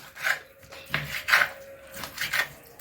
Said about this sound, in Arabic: اقطع الفراخ وهرسها بقى على الكبه